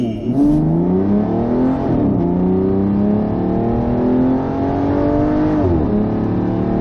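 An Aston Martin grand tourer pulls away hard from a traffic light, its engine note rising steadily through the revs with a brief dip at a smooth gear change before climbing again, loud and close throughout.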